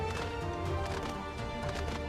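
Horse hooves clip-clop in a steady rhythm across desert ground in Final Fantasy XIV, a close continuous patter without talk.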